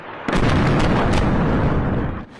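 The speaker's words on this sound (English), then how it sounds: "multiple explosions rocked Tyre in the south" Explosions in Tyre, southern Lebanon, captured in news footage: a loud, sustained rumbling blast with a few sharper bursts inside it that fades near the end.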